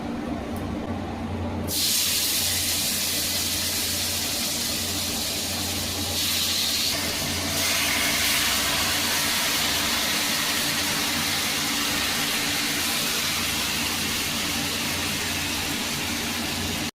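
Chicken pieces dropped into melted butter in a pan for Bengali butter chicken, setting off a loud, steady frying hiss that starts abruptly and holds evenly close up with no talk.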